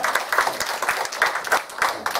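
A church congregation gives a short welcoming round of applause during a Sunday worship service, a moderately loud, steady patter of many hands clapping together for about two seconds.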